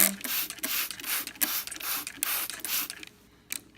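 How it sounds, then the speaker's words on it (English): A spray bottle of water pumped in quick succession, about eight sharp hissing spritzes in a steady rhythm, close by, then a pause and one short final spray, misting seed starts indoors. "Always get a spray bottle,"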